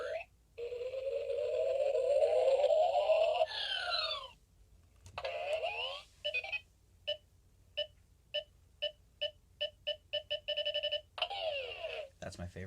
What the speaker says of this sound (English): in toy mode, the utility belt has 5 different sounds